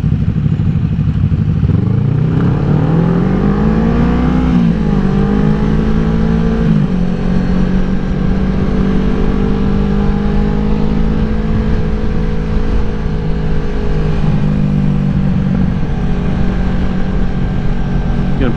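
Group of motorcycles including BMW S1000s, a Ducati Panigale 899, a Yamaha Bolt and a small Ducati dual sport riding on a road, engines droning and rising through gears under steady wind rush, with a rider talking over it.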